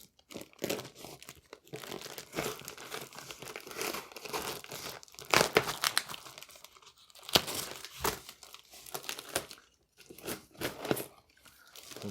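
Packing tape being torn off a package while unboxing a rusty late-1980s desktop computer: quiet, close, intermittent bursts of ripping and crinkling separated by short pauses, with no talking.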